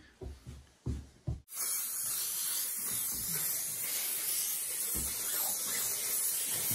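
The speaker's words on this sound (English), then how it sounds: "We're just using this no-nonsense spray contact adhesive." Continuous steady hiss of no-nonsense spray contact adhesive being sprayed as glue for a darts studio, loud and unbroken for several seconds after a few short bumps and taps.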